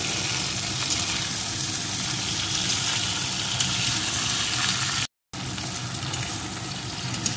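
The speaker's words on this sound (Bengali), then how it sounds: "এখন ভেন্ডিগুলোকে একটু ভেজে নেব।" Okra fries in hot oil in a pan with a loud, steady close-up sizzle and crackle, broken by a brief dropout near the end.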